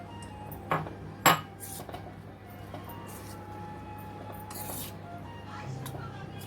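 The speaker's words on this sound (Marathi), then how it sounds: "आता हे सगळा फ्लावर याच्यामध्ये घालून घेऊया" Cauliflower florets are tipped into a thin coating batter for gobi manchurian, with two sharp clinks against the bowl, then soft stirring under a woman's speech.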